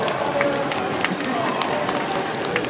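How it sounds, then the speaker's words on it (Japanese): A large indoor audience claps to welcome presenters at a science symposium stage show in Makuhari Messe. The applause is a steady, dense patter that continues throughout, with voices mixed in. "ぜひ拍手でお迎えください。"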